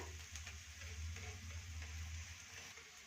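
Holige, a dry coconut flatbread, fries in oil on a pan after being flipped, giving a steady, soft sizzle that runs continuously and fairly quietly throughout with no talk.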